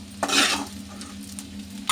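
Prawns frying in hot oil in a pan for a green chilli prawn dish, sizzling steadily while a utensil stirs them with a scraping swish early on.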